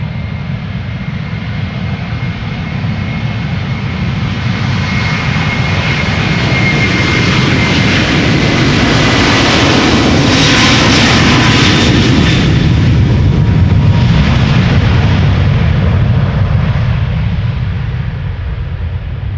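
A KLM Airbus A330-200 jet passes at Amsterdam Schiphol Airport, a loud, close roar that builds to a peak midway, then slowly fades.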